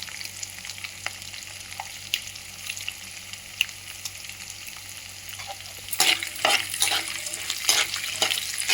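Broken dried red chillies frying in hot oil for a snack mixture, giving a steady close sizzle that gets louder and busier partway through as stirring scrapes and crackles join in.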